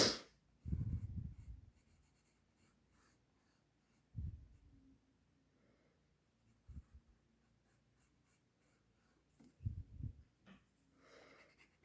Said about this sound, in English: now I'll erase the lines I don't need